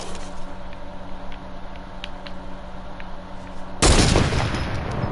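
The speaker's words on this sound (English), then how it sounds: "You quickly swap off to your heavy sniper rifle." A heavy sniper rifle in Fortnite fires a single loud, abrupt shot that cuts through a quiet game ambience, followed by a lingering rumbling tail.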